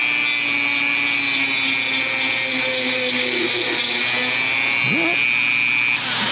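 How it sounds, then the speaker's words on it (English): A handheld rotary tool with a sanding disc works a Garelli moped cylinder during porting, holding a steady, close, high-pitched whine with fluctuating grinding as the disc contacts the metal, then briefly dipping near the end. "So I switch to a sanding disc, it's not going to cut as much."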